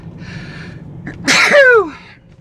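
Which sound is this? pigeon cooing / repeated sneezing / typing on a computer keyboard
repeated sneezing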